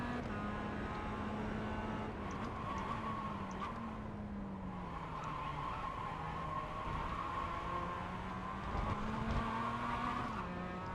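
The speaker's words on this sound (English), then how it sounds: "Just slid the rear tires" In the iRacing video game, a Mazda Cup race car at Snetterton slides its rear tires, squealing over a loud, steady engine drone that shifts pitch throughout.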